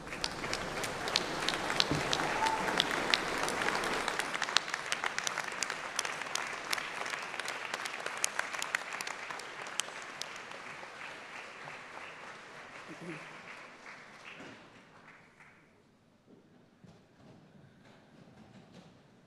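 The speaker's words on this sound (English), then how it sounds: "give them an enormous round of applause" Graduates at a university graduation ceremony stand and applaud their supporters, a dense roar of clapping from a large hall that swells, holds, then thins and fades away toward the end.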